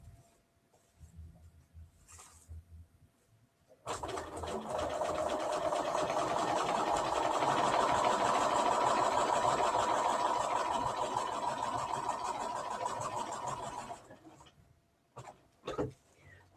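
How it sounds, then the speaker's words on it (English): A sewing machine stitches through vinyl in one steady, close, continuous whirring run of about ten seconds, with faint handling noises before and after. "Sewing through vinyl."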